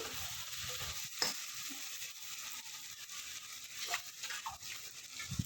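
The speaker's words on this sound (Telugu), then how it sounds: "వాటర్ పోసేస్తున్నాం అండి" Water poured into a hot pot of spiced vegetables for veg pulao hisses and sizzles softly, a continuous low crackle with a few brief scraping bursts.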